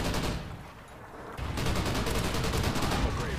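Rapid automatic gunfire in Call of Duty Ghosts, a dense loud burst that dips briefly and then resumes as continuous fire.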